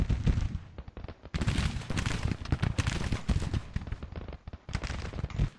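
Infantry volleys and scattered musket fire crackle across a large Civil War video game battle, dense overlapping shots rolling on continuously with brief lulls, loud and close.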